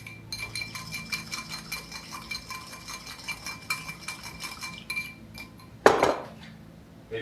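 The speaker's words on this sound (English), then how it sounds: "Whisk it all together." Quick, repeated clinking of a whisk against a bowl while mixing a shallot vinaigrette, light metallic ticks at close range ending with a sharper clatter.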